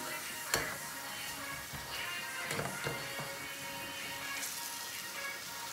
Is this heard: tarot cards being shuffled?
no